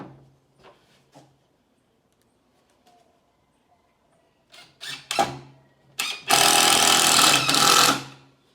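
A power drill drives 2.5 inch screws into reclaimed wood for a sofa build: a few short isolated bursts, then a loud, sustained whirring run of about two seconds near the end.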